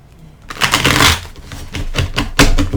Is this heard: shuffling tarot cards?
yes